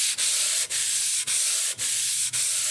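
An oil stone is rubbed back and forth on sandpaper to flatten it, producing a continuous loud, close gritty scraping broken by brief dips at each change of stroke, about five in a steady rhythm.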